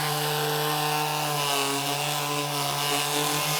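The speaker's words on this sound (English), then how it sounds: "Then I'm just gonna sand off any of this stuff," A power sander runs continuously on a wooden shaker-style cabinet door, smoothing imperfections with a loud, steady whining drone and harmonic buzz throughout, with no voices.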